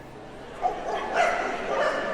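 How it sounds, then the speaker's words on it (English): Several caged dogs bark and yip excitedly together at close range, a continuous jumble of barks and whimpers. "The dogs start barking almost immediately as somebody approaches their cages, no matter what."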